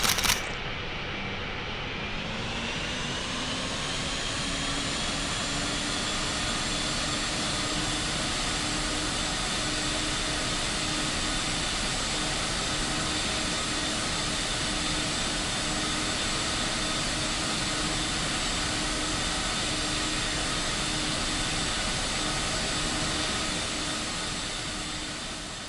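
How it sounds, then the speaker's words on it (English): Emirates Airbus A380 landing with its jet engines roaring in a steady, broad rush that holds loud for nearly half a minute, heard from the ground while planespotting at Manchester, no voices over it. "Average A380 landing."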